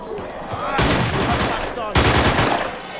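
Rifle fire in The Showdown Effect multiplayer game, several sharp loud cracking shots in close succession amid a busy, noisy game mix.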